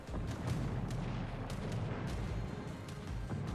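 Naval guns fire in the World of Warships video game, giving repeated deep booms over a constant low rumble, each shot landing at irregular intervals, with no talk.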